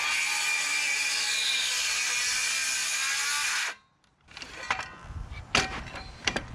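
A power saw plunge-cutting into wood whines steadily and loudly for several seconds, then stops abruptly, followed by scattered clicks and handling knocks.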